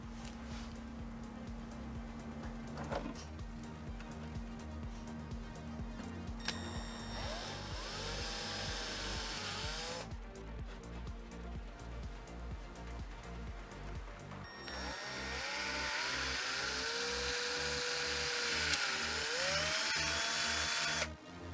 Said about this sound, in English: so we're going to drill a small pilot hole